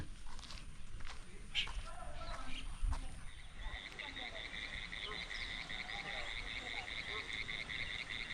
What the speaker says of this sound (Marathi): इथे सगळे रात्र आता बेडका आवाज करणार